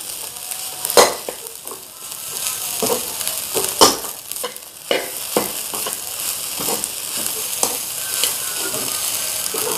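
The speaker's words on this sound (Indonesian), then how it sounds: "Ya, kita masukin, langsung kita aduk rata." Seasoning being stirred into oncom rice in a pan: a close, steady sizzle with a spatula scraping and knocking against the metal in irregular strokes.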